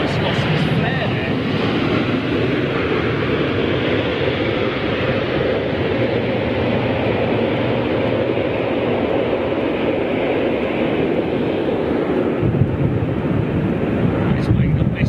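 Steady jet engine roar of an airplane landing in strong wind at London Heathrow Airport, a broad continuous rumble mixed with gusty wind buffeting the microphone, fairly loud and unbroken throughout.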